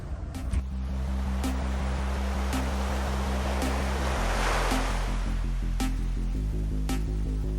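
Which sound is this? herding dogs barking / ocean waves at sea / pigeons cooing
ocean waves at sea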